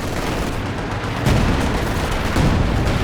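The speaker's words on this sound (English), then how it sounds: "Oh, the Zis barrage though," Artillery barrage from a ZiS field gun in the real-time strategy game Company of Heroes 2, a dense, continuous rumble of heavy firing with two louder thumps partway through, no talking.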